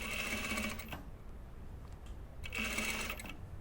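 A sewing machine stitches the gathers of a puff sleeve on a blouse, running in two steady bursts with a short pause between them, close and moderately loud.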